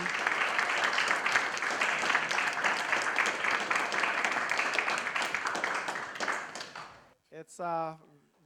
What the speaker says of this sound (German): Ich möchte einfach nochmals um einen ganz herzlichen Applaus bitten für Danny